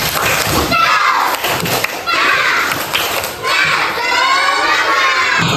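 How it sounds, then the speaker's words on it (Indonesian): Indonesian schoolchildren in a classroom perform a rhythmic clapping chant with their teacher, loud overlapping young voices shouting along with claps and thumps in repeating bursts. "kalau paham kita tepuk semangat dulu. Tepuk semangat."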